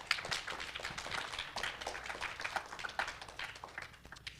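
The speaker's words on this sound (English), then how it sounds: "Let's go ahead and give our debaters a round of applause" Audience applause for debaters at the close of a high school constitutional debate evening, a steady wash of many hands clapping at moderate loudness for several seconds with no talk over it.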